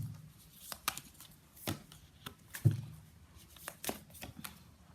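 Tarot cards being shuffled by hand in short, separate bursts, each a soft papery riffle or snap spaced about a second apart, quiet and close with a hushed background and no speech.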